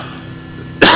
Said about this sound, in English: Got a cough again.